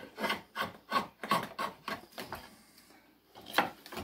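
Dry, kiln-dried white oak is cut by hand for chair making. It gives about eight rhythmic rasping strokes, fairly faint and close, with a short pause before a final stroke.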